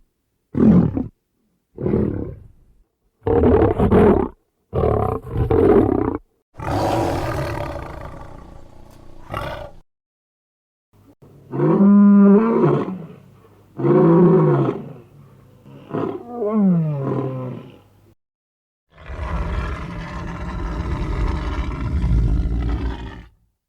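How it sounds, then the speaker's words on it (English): Lion growls and roars used for Chewbacca voice design come in separate bursts: short deep grunts, longer guttural roars, and a final rough sustained roar, close and loud with silences between them. "So there are expressive lions, growls, deep guttural elements, all of those things put together here."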